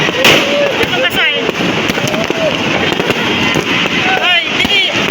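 New Year's fireworks bang and crackle in rapid bursts, with whistling rockets streaking up at intervals and scattered voices beneath the steady explosive clatter.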